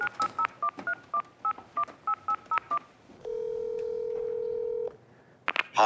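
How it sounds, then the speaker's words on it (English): A rapid series of about a dozen beeping touch-tone keypresses, then a steady held tone, followed by a brief ringing burst. "So I just picked up the phone and called the guy who made the thing."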